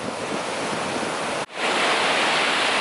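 Water rushing steadily at a river park, a dense broadband roar close by and fairly loud, briefly dipping midway before surging back.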